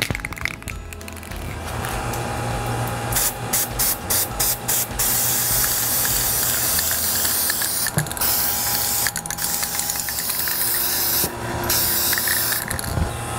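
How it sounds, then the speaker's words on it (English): Gold aerosol spray paint hissing in bursts onto a lamp, several short sprays followed by longer steady hissing, close and fairly loud. "I'm going to spray paint this with a gold"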